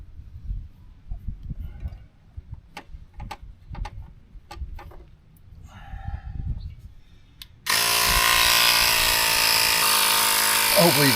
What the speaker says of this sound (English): What's cool about this is it's got another little valve off to the side of the pump where you can check your air pressure while you're pumping